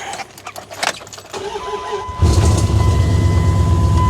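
An old Dodge Ram truck, worked on outdoors in the rain, cranks after a few clinks and rattles, catches, and settles into a loud, steady running idle that fills the rest of the clip.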